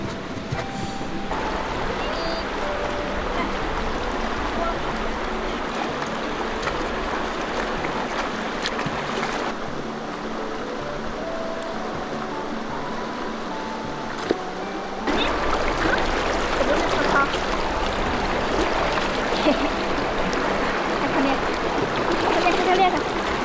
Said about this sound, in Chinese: 待会儿去找一个轻一点的水沟给它洗一洗。